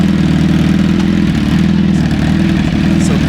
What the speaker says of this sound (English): And I'll show you the run here that Chris did on this bike.